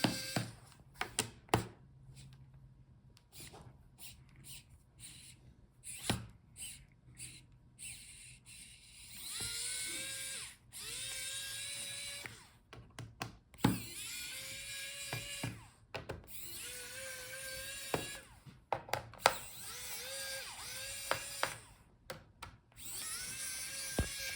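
Small screws are backed out of the bottom case of a Dell Latitude 7530 laptop, giving brief clicks and ratcheting whirs of a driver between quiet gaps, some in longer buzzing runs.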